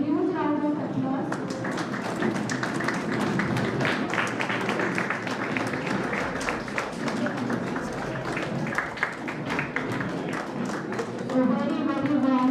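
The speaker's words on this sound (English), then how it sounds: "A huge round of applause." A lively round of clapping from the audience at a concrete institute felicitation ceremony in Pune, sustained and crowded for about ten seconds, with an announcer's voice briefly at the start and returning at the end.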